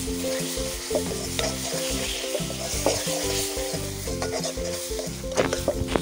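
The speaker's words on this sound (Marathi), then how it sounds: "आता याच्यामध्ये आपण आलं लसूण पेस्ट टाकूया आणि कच्चा वास निघून जाईपर्यंत आपण ही परतून घेऊया" Ginger garlic paste sautéed with onion and tomato in a hot pan for malai chicken, a steady close sizzle with repeated spatula stirs and scrapes throughout, no talking.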